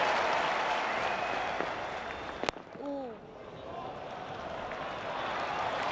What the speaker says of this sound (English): Crowd rise again. It's Mark Wood who's got that wicket.